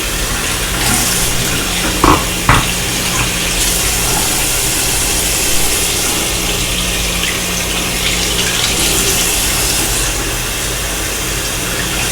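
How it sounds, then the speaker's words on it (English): Plain water running over a candle to wash off its sticker, a steady close hiss and rush of flowing water with a couple of brief knocks early on. "Just use plain old water and get this sticker off as well."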